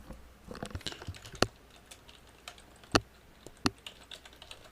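Light taps on an iPad touchscreen while a question is typed, a few faint soft ticks, with three sharper taps standing out against quiet room noise.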